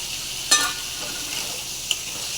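Sliced ridge gourd fries in a pan as poppy seed paste with green chili is added, giving a steady bright sizzle with a soft plop or stir at the start and another brief tap later.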